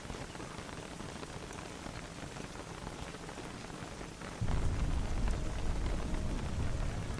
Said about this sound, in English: The rain needs to go away.